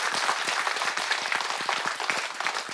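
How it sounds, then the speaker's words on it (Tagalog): Congregation applauding at a church service led by a bishop, a dense steady wash of many hands clapping at close range throughout, with no voices over it. "Palakpak sa Diyos"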